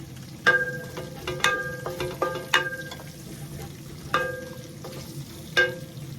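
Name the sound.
ghee sizzling in a pot while sauteing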